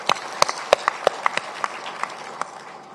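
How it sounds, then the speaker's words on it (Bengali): Audience at a book fair opening ceremony applauding with sharp, distinct claps that thin out over a few seconds, moderately loud in a large space. "তাদের উদ্দেশ্যে আমরা একটা হাততালি দেই।"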